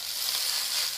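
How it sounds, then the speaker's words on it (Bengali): Bottle gourd leaves fry in a pan with a steady, close hiss of sizzling oil that holds evenly through the whole short moment, with no voices over it. "এইভাবে পাতাগুলো ভালো করে ভেজে নিতে হবে।"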